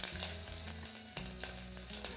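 Ginger, garlic, cloves, cinnamon and green chillies frying in a little hot oil for spinach curry, a steady close sizzle with faint stirring scrapes and no voices.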